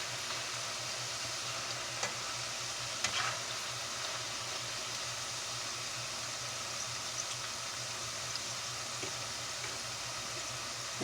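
Corn tortillas frying in hot oil on a stovetop, a steady low sizzle with a faint hum running underneath, fairly quiet and even throughout, with a couple of small crackles and no talking.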